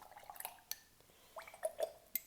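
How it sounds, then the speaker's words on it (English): A paintbrush is rinsed in a cup of water during acrylic seascape painting, giving soft scattered drips, taps and small splashes in a quiet room, close and fairly faint. "go ahead and wash off your brush in some water"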